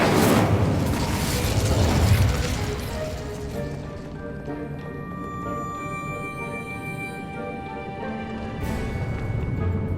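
The Incendio fire spell going off in Hogwarts Legacy, a loud whooshing burst and rumbling boom that fades into a shimmering ringing tail, with a second swell near the end.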